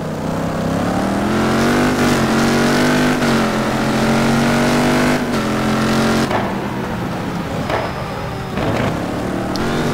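A Mercedes GT race car engine in a GT2 sim racing game at Townsville, loud and close, revving high through the gears with sharp drops at shifts before the note changes as it brakes and accelerates again.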